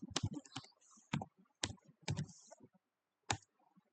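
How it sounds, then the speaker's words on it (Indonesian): Router configuration commands are typed on a computer keyboard in short, separate bursts of clicky keystrokes with pauses between them, close and fairly quiet, with no talking. "Jadi kita ketik enable dulu."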